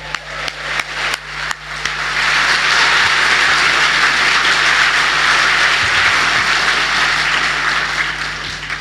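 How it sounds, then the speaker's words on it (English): A crowd at a Brexit Party rally in Wolverhampton breaks into loud, sustained applause after a few scattered claps, dense clapping filling the hall and continuing steadily to the end. "Round of applause for my mum and dad"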